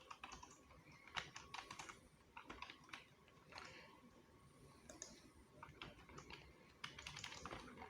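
A name typed on a computer keyboard, a steady run of soft irregular key taps over several seconds, close but faint.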